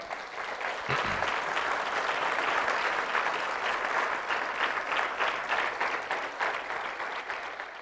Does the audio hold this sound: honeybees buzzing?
no